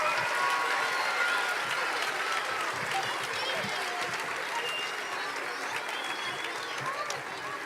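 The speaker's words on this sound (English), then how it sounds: "Let's give them another round of applause" Steady audience applause after a patriotic school performance, a dense even patter of many hands from a seated crowd, moderately distant and slowly tapering off.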